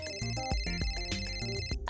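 A telephone ringtone plays in a rhythmic, repeating pattern of bright tonal beeps, loud and close, with no talk over it, in a domestic scene from a French-dubbed drama series.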